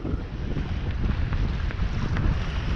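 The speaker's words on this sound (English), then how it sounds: "it's cold out and I've got waves splashing over the side" Strong gusting wind roars across the microphone as cold waves slosh and splash over the side of a kayak close by, a steady rough wash with no talking.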